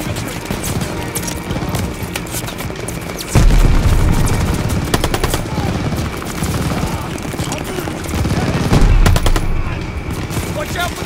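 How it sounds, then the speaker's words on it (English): Gammon bombs burst in the Call of Duty: Vanguard campaign, two heavy booms breaking through loud, constant machine-gun and rifle fire. "I'm just chucking gammon bombs everywhere."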